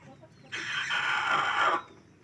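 A hen in a farm coop gives a single drawn-out cluck, close and fairly loud, over quiet background.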